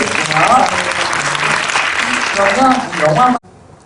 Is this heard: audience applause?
yes